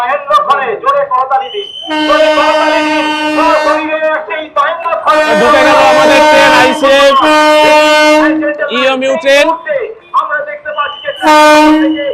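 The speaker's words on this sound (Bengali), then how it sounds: "মহেন্দ্র খানের সেই ট্রেন এসে উপস্থিত হচ্ছে" A Krishnanagar–Amghata train pulls into Amghata station, sounding loud, sustained horn blasts in several long bursts while people talk close by over a watching crowd.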